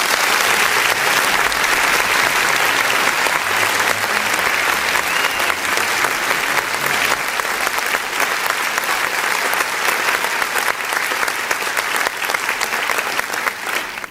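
A church audience in Kenya gives sustained, loud applause for the people of Zambia and Peter Nyambo. The dense clapping holds steady for about fourteen seconds, with no voices over it.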